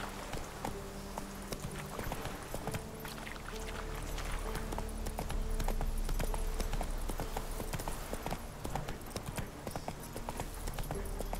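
Roach, a horse in a video game, gallops with quick, steady clip-clop hoofbeats, soft and continuous throughout.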